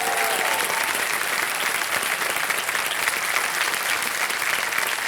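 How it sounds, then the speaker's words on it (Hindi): Studio audience at a KBC quiz show bursting into sustained, dense applause for a contestant, loud and steady throughout with a brief voice fading out at the very start. "एक बार तालियां बज जाएं इनके लिए"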